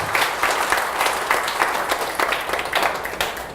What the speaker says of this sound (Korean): 우리 박수 한번 치고 선수들한테 박수